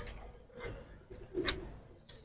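A khaki army pigeon, a male high-flyer in a giribaz loft, gives a faint, low cooing that swells once midway, heard quietly against the room's hum.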